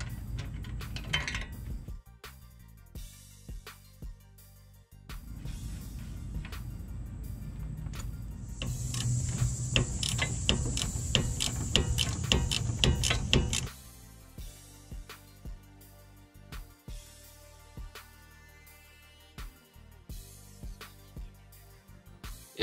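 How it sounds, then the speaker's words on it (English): An 18 mm ratcheting wrench turning a sway bar end link nut on a 2014–2020 Chevy Impala, giving rapid metallic clicking and ticking with bursts of louder clattering in the middle, close up. "you'll see me switching to an 18 millimeter ratcheting wrench"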